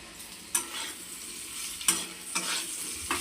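Potatoes sizzle steadily in a hot pan for potato bhaji, with several sharp scraping stirs of a spatula breaking through the constant frying hiss.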